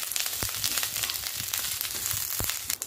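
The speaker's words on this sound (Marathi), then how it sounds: "आता हे छान असं कमी गॅसवर छान भाजून घ्यायचं कढीपत्ता" Curry leaves roast in a little oil in a pan over low heat, with a steady gentle sizzle broken by a few sharp crackles and pops, close and moderately loud with no talk.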